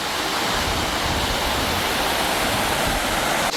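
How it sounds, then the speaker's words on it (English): Karimutti Waterfalls in Kerala roars as a loud, continuous broadband rush of falling water, steady and close with no voices over it. "This is Karimutti Waterfalls."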